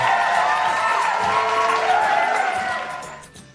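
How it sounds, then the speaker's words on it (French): Dense crowd roar of cheering and whooping with scattered clapping, loud and sustained, then fading toward the end. "Veuillez applaudir bien fort"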